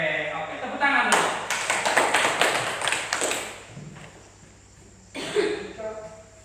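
Clapping from a class of students, a burst of fairly close claps lasting a couple of seconds and fading, then a brief second flurry, with talking around it.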